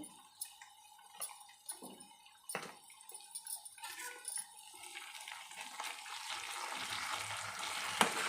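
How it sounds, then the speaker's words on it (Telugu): Ginger paste fries in a pan for a Telangana tomato and fenugreek leaf curry, a faint, soft sizzle with scattered small pops and clicks that swells steadily louder toward the end. "అల్లం పేస్ట్ పచ్చివాసన విధంగా ఫ్రై చేసుకోవాలి"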